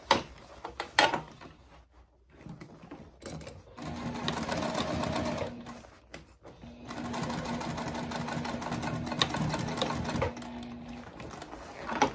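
A domestic sewing machine stitches a seam in two steady, close runs of rapid mechanical whirring and ticking, with a short pause between them and faint handling clicks at the start.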